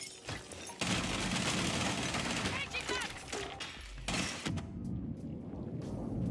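Gunfire in Rainbow Six Siege comes in rapid bursts and volleys of shots, fairly loud, with a voice talking over parts of it.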